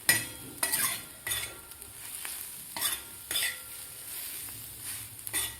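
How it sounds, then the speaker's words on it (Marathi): Cluster beans (gawar) stir-fried with spices in a pan, a steady close sizzle broken by repeated scraping stirs and light clinks of a utensil against metal, with no talking. "आता व्यवस्थित आपल्याला हे 1 ते 2 मिनिट आपल्याला परतून घ्यायचं आहे"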